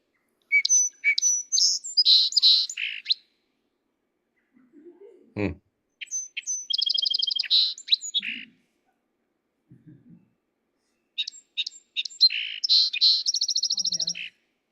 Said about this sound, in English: It's a song sparrow.